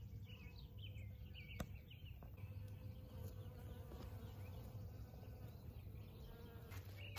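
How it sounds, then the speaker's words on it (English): Honeybees buzz around zinnia flowers in a garden row, a faint, continuous insect hum with a few bird chirps and light outdoor background noise, no talking. "Because the honeybees are just,"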